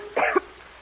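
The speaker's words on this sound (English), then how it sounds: "I was only clearing my throat." One short, close throat clearing from a man, a quick gruff rasp of under half a second, heard alone against a quiet, slightly hissy old radio-drama background.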